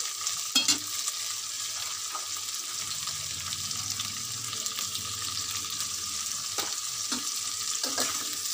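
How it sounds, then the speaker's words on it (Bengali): Onion and tomato fry steadily in a hot pan, a constant hiss with occasional scraping and clinks of a spatula stirring, no voices. "পেঁয়াজটা ভাজা হচ্ছে, টমেটোটা দিয়ে দিলাম।"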